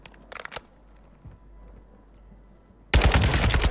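Video game gunfire comes as a short burst of automatic shots near the start, a lull, then a loud sustained stretch of rapid fire to the end.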